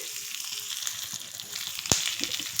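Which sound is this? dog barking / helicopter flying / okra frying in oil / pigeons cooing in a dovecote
okra frying in oil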